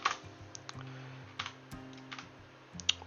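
Quiet, quick keystrokes tap out a short burst of typing on a computer keyboard, with a few sharper clicks scattered among them and a faint steady hum underneath.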